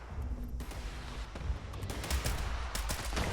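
Gunfire in the video game Fallout 76, a barrage of shots aimed at robots, with repeated cracking bursts over a rumbling background at moderate loudness.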